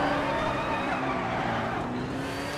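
Racing car engine from a racing video game, a steady high whine with shifting tones that holds at a moderate level throughout.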